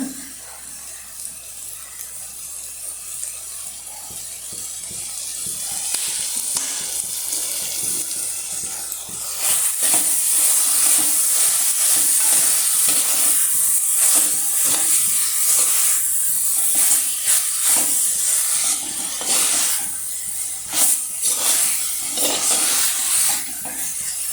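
Jackfruit seed and raw mango aviyal cooks with coconut oil in a pan, giving a loud, steady sizzle and hiss with watery bubbling and occasional stirring scrapes throughout.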